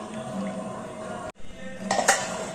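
A metal lid is set down on a pot of milk and vermicelli payasam with a single clanking clink, following a soft kitchen background hum.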